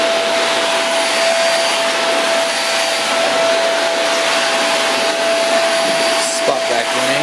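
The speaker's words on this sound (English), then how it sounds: "Spot vacuuming." An iWoly cyclone vacuum cleaner runs steadily at close range, a constant loud whine with a fixed tone and broad rushing air noise throughout, ending with a brief clunk.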